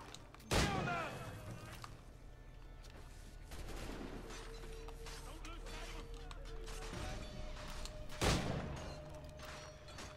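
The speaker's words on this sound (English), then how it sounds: "you know, it's a gunshot" A single loud gunshot cracks out near the start of a scene in the video game Assassin's Creed 3, with a second sharp shot later, over ambient game sound, music tones and background character speech.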